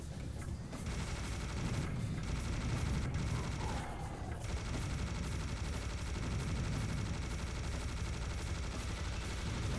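A minigun in a video game fires a sustained, dense roar of gunfire that runs almost the whole time. It is broken only by a few very short pauses early on and stays loud and continuous.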